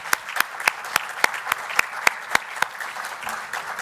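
Slow, distinct single claps from one person, about ten sharp hand strikes at a steady rhythm, close and clear, stopping before the end as a quiet murmur remains.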